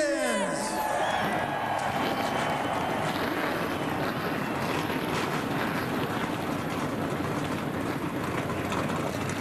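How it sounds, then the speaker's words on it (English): Race car engines fire up together at the 2005 EasyCare Vehicle Service Contracts 200 in Atlanta, a loud, dense, sustained roar that fills the whole stretch with no let-up. "Engines are fired up."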